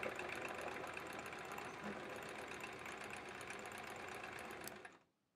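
A sewing machine runs steadily through free-motion quilting on a quilt-as-you-go sampler block, a close, continuous whirring hum with a fast mechanical rhythm that cuts off abruptly near the end.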